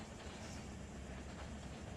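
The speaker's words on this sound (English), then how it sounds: "the supply train has arrived over at the A yard where we're going to be heading with this cut here" A freight train rolling in the Run 8 train simulator game, a continuous low rumble of wheels and cars with faint rhythmic clatter, steady and fairly close, with no talking.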